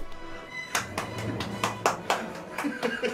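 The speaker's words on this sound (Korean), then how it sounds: "두 정상을 여러분들 박수로 맞아주십시오." Scattered handclaps from a small audience greeting two guests at the start of a 2019 summit-style talk show, with several separate sharp claps spaced irregularly over a low murmur of voices.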